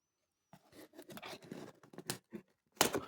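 A parcel of trading cards is cut open, giving a run of scissor-like snips, tearing and scraping that starts after a brief silence and ends in a louder crunchy burst.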